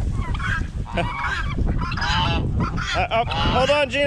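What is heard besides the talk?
geese honking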